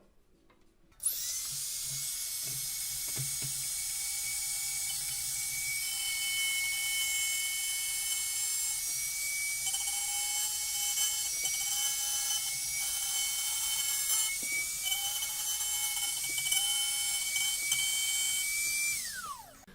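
A Dremel fitted with a router bit cuts a test slot in scrap wood for a guitar abalone rosette, a steady high-pitched whine running close and loud for nearly twenty seconds with slight dips in pitch as it bites.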